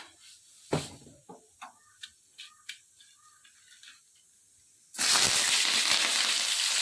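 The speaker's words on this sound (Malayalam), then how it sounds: "കടുക് പൊട്ടിക്കാൻ പോവുകയാണേ" Mustard seeds heat in a pan of oil, giving a series of sharp, scattered pops about every half second, then a sudden loud, continuous hiss and sizzle bursts in and holds to the end.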